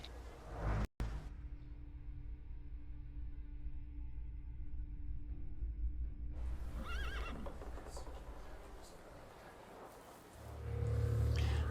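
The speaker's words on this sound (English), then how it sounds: "I meant to take the horse out for a run" In The Thaumaturge video game, a horse gives a long, loud neigh after a sharp thud, followed by hooves clip-clopping that fade under rushing wind, with no talk.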